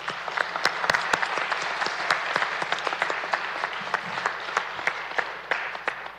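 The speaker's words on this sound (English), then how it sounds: "Let's give the graduates one more round of applause." Sustained applause from a ceremony audience honoring education graduates at a pinning ceremony, a dense steady clatter of many hands clapping at moderate distance for the full length, with no voices standing out.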